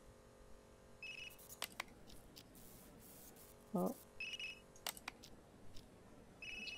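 A phone rings in the Unheard detective game, giving several short, bright electronic trills spaced apart over quiet ambience, with a single brief exclamation from a voice between them.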